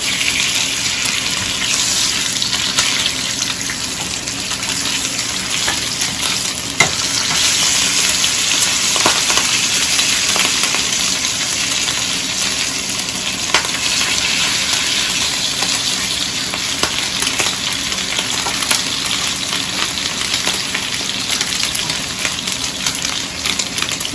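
Bacon sizzles and spits in a frying pan for breakfast sandwiches, a loud, dense, continuous crackle with scattered sharper pops throughout, with no speech.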